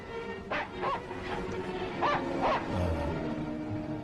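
A dog in a 1940 classic film yips and whimpers in short high bursts, two pairs of quick cries spaced apart over a steady background hum, moderately near and not very loud.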